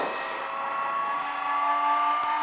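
Gyroplane engine revving up to spin the rotor, a steady rising whine with a faint tone climbing under it, moderately loud and continuous.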